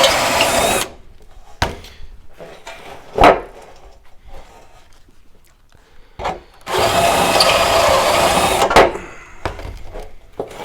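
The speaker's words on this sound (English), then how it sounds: "I always try to line up the hole I drilled previously with the hole I'm drilling" A power drill bores through a 2x4 wood block in several bursts: a short whir at the start, a couple of sharp clunks, then a longer loud drilling run before stopping.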